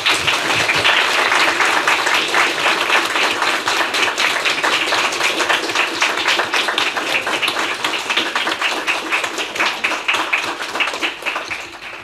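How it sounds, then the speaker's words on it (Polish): Audience at a science lecture in Toruń breaks into loud, sustained applause, individual claps distinct and rhythmic, tapering slightly toward the end. "Wielkie brawa dla Państwa"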